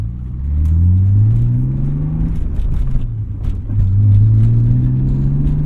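A BMW M3 engine revs hard, climbing in pitch to a high scream near 7000 rpm, drops, then climbs again in a second loud rising sweep.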